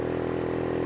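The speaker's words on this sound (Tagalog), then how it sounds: "Nagkahinay sa akong motor." A motorcycle engine hums steadily at close range with an even, buzzing drone, sounding sluggish and low on power while riding a road near Valencia, Negros Oriental.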